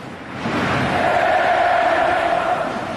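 Korean football fans at the 2002 World Cup chant the country's full name in a huge stadium, a massed, sustained roar of voices swelling loud and steady from a distance.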